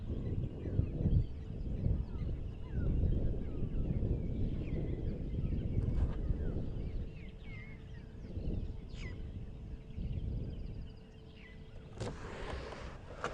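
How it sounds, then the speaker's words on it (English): Birds call in the African bush at sunrise, with honking, goose-like cries and scattered chirps layered over a faint, distant background. "The mornings are always beautiful with the cacophony of bird calls that you can hear here."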